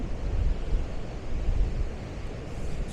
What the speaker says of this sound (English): So yeah, I just like to watch the waves.